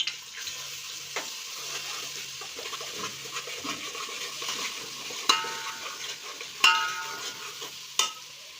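Ginger-garlic paste from roughly two onions' worth of garlic and an inch of ginger goes into a pan for masala rice and frying sizzles low and steady, broken by a few sharp metal clinks of a spoon stirring.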